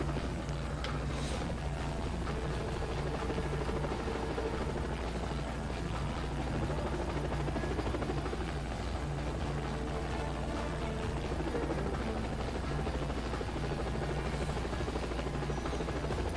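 Helicopter in the Renegade Ops video game, its rotor drone holding steady and loud throughout with a dense wash of in-game noise and no pauses.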